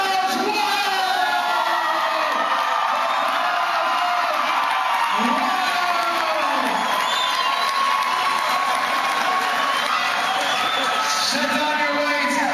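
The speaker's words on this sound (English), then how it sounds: "and the crowd goes wild!" A convention audience cheers, whoops and yells loudly after a mock weightlifting contest, a continuous roaring crowd with individual shouts rising out of it and voices mixed through.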